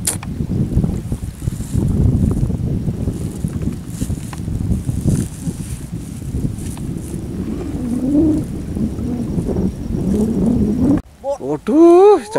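Strong wind roars across the microphone during an outdoor eel-fishing trip, a steady low rumbling buffet that fills the whole stretch and drops out briefly near the end.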